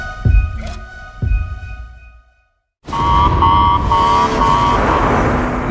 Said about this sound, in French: Une alarme retentit à bord de la Station spatiale internationale.